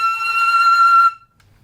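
A single sustained flute note, E in the third octave, played on an intermediate-level flute in a breathy, aggressive rock style. It is loud and steady for about a second, then cuts off into silence.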